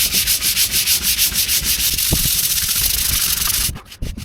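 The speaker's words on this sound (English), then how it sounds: "I need to key it up with a piece of sandpaper so I can get a good grip on it." Sandpaper rubbed by hand over a smooth tank surface to key it up in a van build, loud close rasping strokes in a steady back-and-forth rhythm, ending with a few separate scrubs.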